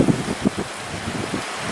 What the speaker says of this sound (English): Man, it's so windy out right now too.